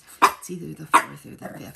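A pet dog barks twice in sharp, close yelps, each followed by a grumbling growl, while someone speaks over it.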